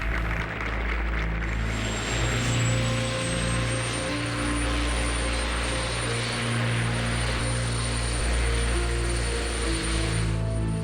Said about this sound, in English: As the helicopter began to rise, I heard Mrs. Nixon